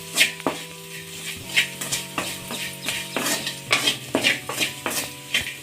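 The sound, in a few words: stirring okra fry in a pan after adding salt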